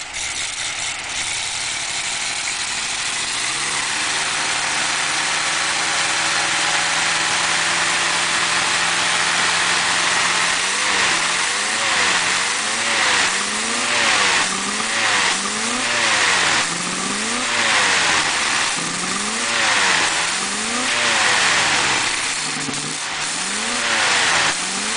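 A 1954 Ford Mainline engine after a cold start with the choke out, first idling roughly, then revving up and down repeatedly in rising and falling sweeps, loud and close with no talking.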